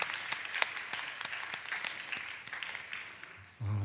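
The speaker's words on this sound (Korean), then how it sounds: "우리 학생들 축복하는 마음으로 한번 큰 박수로 한번 축복합니다" A church congregation at a late-night worship service claps for students, a dense round of applause with distinct sharp claps standing out, fading gradually before a low hum rises at the end.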